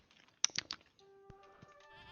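Minecraft goats bleat in a few short, bright calls close together, then a steady tonal game hum with soft clicks follows underneath.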